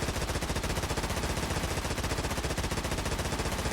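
Rapid, continuous turret fire in Stormworks, an evenly spaced stream of loud close shots with no pauses, no talk.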